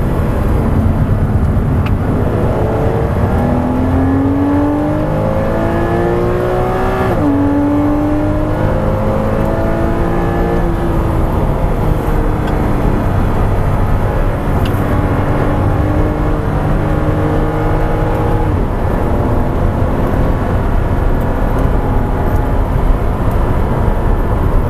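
A Porsche Boxster S PDK laps Barber Motorsports Park, its engine note climbing and dropping through quick gear changes, revving hard and steady throughout with no talk.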